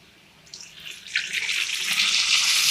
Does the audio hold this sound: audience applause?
no